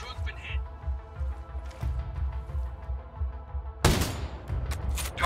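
Bursts of gunfire crackle in Ghost Recon Breakpoint PvP amid a steady background hum, with a louder, denser volley near the end.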